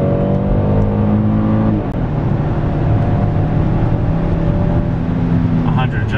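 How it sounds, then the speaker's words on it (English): A large 2019 Kia Sorento SUV in sport mode accelerates hard from a standstill on a snowy, slippery road, its engine note rising as a loud, steady drone fills the whole stretch. "let's put it into sport mode. Let's see how well this thing takes off."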